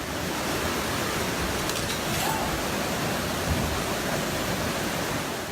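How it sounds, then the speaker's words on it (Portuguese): Floodwater rushes during a severe storm in São Paulo, strong enough to sweep cars out of a condominium garage, a loud, dense, unbroken roar holding steady throughout with no voices. "A força da água arrastou os carros que estavam na garagem deste condomínio."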